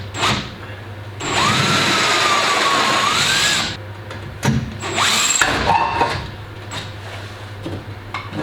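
A power tool, likely a drill or driver, removes bolts on an Iveco Daily van, with loud whirring bursts whose pitch sweeps as fasteners spin out, separated by short pauses and clanks.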